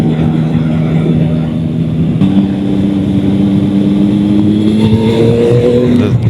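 A stock Yamaha R9 sport motorcycle being ridden, its engine droning loudly and steadily from close by, the pitch stepping up after a gear change and rising again as it accelerates, mixed with wind rush.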